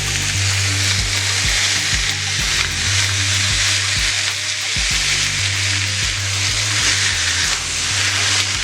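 A ground beef smash burger patty is pressed onto a hot griddle and held to build a crust. It sizzles loudly and continuously, with a close, steady frying hiss and faint rhythmic pulsing.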